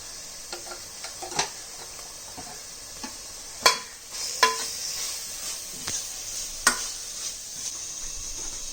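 Chopped tomatoes and turmeric powder sizzle in a pan for veg kurma, a steady soft frying hiss broken by occasional clicks and utensil taps.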